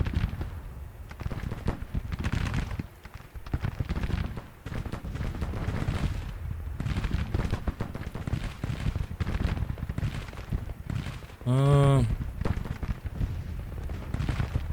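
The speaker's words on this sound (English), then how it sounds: "Artillery is still firing, so I'm leaving them as they are right now." Artillery fire in a Civil War strategy game: dense rolling booms and distant cannon reports form a continuous battle din, with one sharp tonal whistle near the end.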